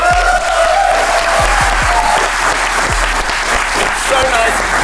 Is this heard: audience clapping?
yes